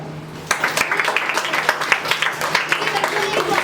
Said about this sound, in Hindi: तो मैं तो एक बार ये चाहूँगी बच्चे अपने लिए एक बार ताली बजाओ।